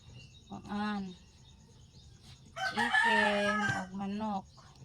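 A rooster crows several times nearby, a short call followed by a longer, louder cock-a-doodle-doo and a trailing final crow.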